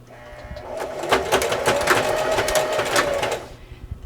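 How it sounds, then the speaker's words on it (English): Sewing machine running a straight stitch back and forth across fabric strips for a woven rag rug, a steady close mechanical whir with rapid needle clatter lasting about three seconds, then stopping. "I just sew back and forth across those marks just with a straight stitch."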